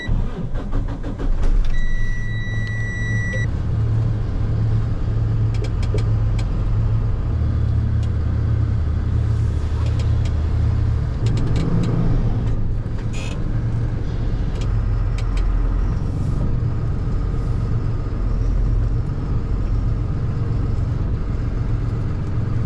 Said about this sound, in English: What I'm gonna do right now is actually bring the bucket truck in through here.